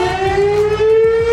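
A missile attack warning siren wails in one sustained, steadily rising tone, loud and close, with no voices over it.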